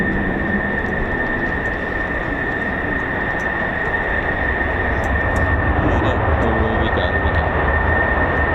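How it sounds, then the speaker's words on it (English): An F-15 fighter jet climbing quickly over an air base produces a loud, steady, broadband roar with a whining tone. It holds at an even level for the whole stretch, without fading. "the F-15 had to get out of the way on that quick climb there"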